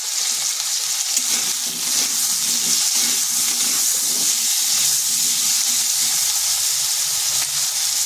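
Potatoes frying in a pan with salt and turmeric give a steady, close sizzle with faint stirring scrapes underneath, constant and unbroken with no talking.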